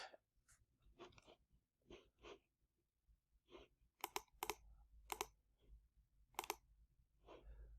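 Sparse, quiet computer mouse clicks on a desk, isolated single and double taps scattered irregularly over several seconds with no talking.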